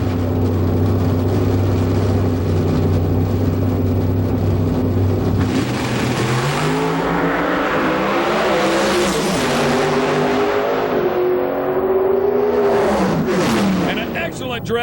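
Pro stock drag cars race down the track at the 2005 IHRA Rocky Mountain Nationals, a loud, close engine roar that swells and climbs in pitch as they launch, then fades and surges again over the strip.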